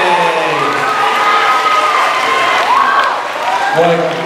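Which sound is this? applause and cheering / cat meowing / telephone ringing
applause and cheering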